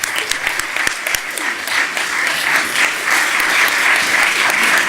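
Audience applause at a university closing ceremony, dense sustained clapping from a crowd that swells slightly and holds steady, with no talking.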